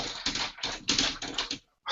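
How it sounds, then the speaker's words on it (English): Close, rapid typewriter keystrokes clatter in dense runs with short pauses, then stop abruptly near the end. "This is old school review with the typewriter."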